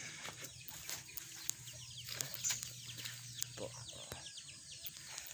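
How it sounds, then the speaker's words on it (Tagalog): Chickens cluck faintly in a busy farmyard, with scattered bird chirps and a low steady hum running beneath. "Ito yung iba nating manok nasa baba oh"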